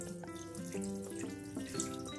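Chicken cooking juices are poured from the pan into a container for an ostropel sauce made with chicken thighs, giving a steady liquid trickle with faint bubbling and dripping throughout, close and fairly quiet, with no talking.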